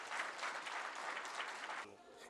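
Applause at a public meeting, a dense burst of clapping from the crowd that drops off abruptly near the end, heard fairly quietly with a voice speaking over it.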